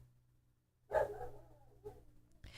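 A dog barks a few times nearby in a low, fairly quiet burst, with soft yips trailing between the barks.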